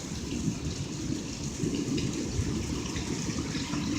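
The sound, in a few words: hail and rain during a severe storm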